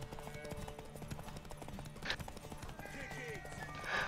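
Rhythmic horse hoofbeats clip-clop steadily at a moderate distance in The Witcher 3, with brief higher chimes and tones layered over the quiet background.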